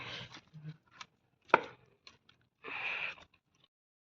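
Dull wooden thumps and soft squelches of a wooden masher working through boiled mustard greens, with one sharp knock and a rougher scraping stretch near the end.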